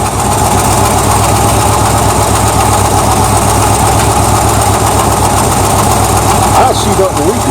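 A 1978 El Camino engine idles steadily and close by with a constant low, even rumble, and any slight rattle from underneath is buried in the continuous drone.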